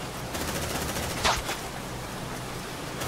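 Rapid automatic gunfire crackles in the Aliens: Dark Descent video game as a dense, continuous rattle of shots, steady and moderately loud, with one brief sharper burst partway through.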